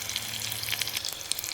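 Chili and mustard seeds tempering in hot oil for rava dhokla, a brief close crackling sizzle with tiny pops, steady and fairly loud, no voice.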